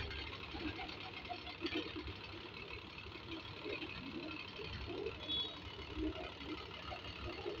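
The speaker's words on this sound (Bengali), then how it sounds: "আরেকটি কবুতর কিন্তু এই ফ্যানের উপর বসে আছে, তাই শব্দ হচ্ছে ফ্যানটি।" An electric fan runs with a pigeon perched on it at a pigeon farm, giving a low, steady motorlike hum with faint rattling, partly under a person talking.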